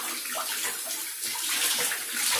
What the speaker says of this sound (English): sorry, I gotta rinse it